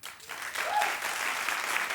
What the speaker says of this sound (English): Somebody clap if you watch that show.